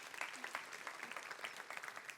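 Applause from a church congregation in a French-language gathering, a brief burst of many hands clapping at moderate distance, fairly quiet and steady with no clear cheering.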